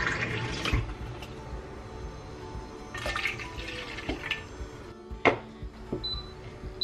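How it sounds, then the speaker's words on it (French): Water poured into a mixing bowl while making a homemade face mask, a splashy running pour with a few clinks and brief louder splashes, close by and with no voices. "je vais rajouter un peu d'eau"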